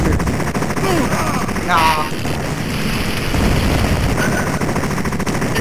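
Rapid gunfire from the arcade game Total Carnage, dense repeated shots over a continuous game soundtrack, loud and close, with a brief spoken word from a player.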